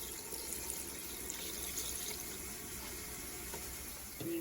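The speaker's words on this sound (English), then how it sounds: "you're gonna fill the rest of it all the way up to 2 with water" Tap water runs steadily into a measuring cup in a home kitchen, a soft continuous hiss and splash with no talk, ending in a brief change as the flow shifts.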